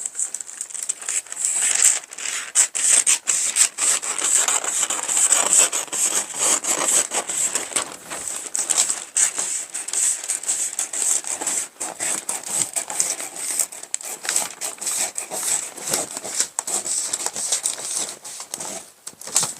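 Scissors cutting through the front panel fabric of a hooded coat, a steady run of crisp snipping and crinkling fabric noise lasting throughout, close and moderately loud with no talking.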